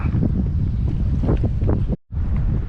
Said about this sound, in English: Not easy with this wind.